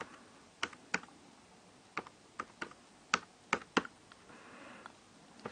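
Password being typed on a keyboard, about ten sparse, crisp key taps spread irregularly, close and fairly quiet, with no talking.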